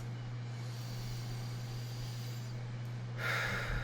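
A deep breath drawn in slowly, steady and close over a constant low hum, swelling into a louder, airy exhale near the end, with no talking.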